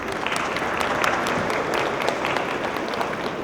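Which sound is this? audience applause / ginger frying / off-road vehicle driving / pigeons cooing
audience applause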